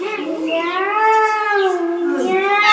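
A performer's voice imitates a cat, drawing out one long wavering meow with a rising and falling pitch, close and fairly loud during a comedy animal-sound game.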